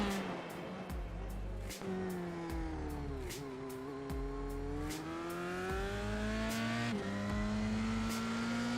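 Race car engine in an F3 racing video game on a track in Japan during qualifying, a steady high revving drone that climbs through gears with brief shift dips, continuous and close, with faint talk underneath.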